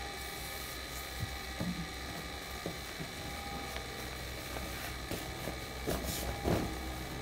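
A sewing machine stitches fabric along the back neckline of a homemade V-neck sleepwear top. It gives a quiet, steady mechanical whir with faint ratcheting clicks and no talking.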